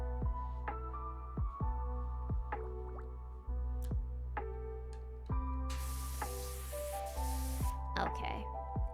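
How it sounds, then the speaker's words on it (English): A burst of spraying cleaning liquid in a cleaning video game hisses for about a second, set against steady tonal game music and repeated dripping, plinking effects. "I probably sprayed enough cleaning liquid on it"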